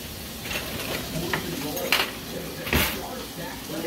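A spoon stirring a bread mixture with garlic salt, producing soft scraping and a few sharper clinks against the bowl, close up, with voices partly over it.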